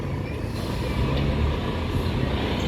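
A Gumarang Jaya bus pulls away from a terminal in Sumatra, its engine a close, loud, steady rumble with faint higher hisses and tones layered over it.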